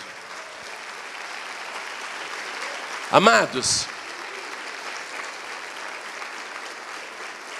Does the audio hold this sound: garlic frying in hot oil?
no